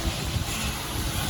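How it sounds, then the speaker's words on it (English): Gusty wind buffets the microphone as a hurricane approaches after rain has started, a broad rushing roar with uneven surges and small bursts from gusts, close and moderately loud, with no voices. "The wind died down a bit, but it is still coming in gusts."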